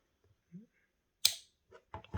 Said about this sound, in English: So now that we got our scissors, we're gonna cut this tag off right here.